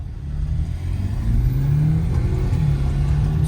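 A 2017 BMW F30 xDrive sedan's engine revs loud and close with a steady, sustained roar that climbs slightly in pitch midway and holds, no speech over it.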